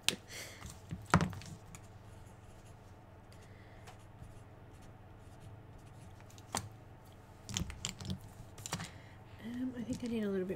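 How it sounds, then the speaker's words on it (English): Computer keyboard keys clack in scattered bursts, with a few louder isolated presses, under ongoing low talk and background noise during a live chat stream. "The keyboard pressing."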